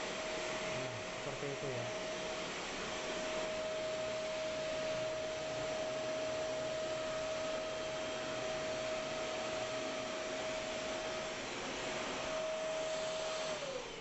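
An Idealife IL100V wet and dry vacuum cleaner blows air at a curtain about 1.5 meters away, a loud steady rushing roar with a constant motor whine throughout; a voice speaks briefly near the start.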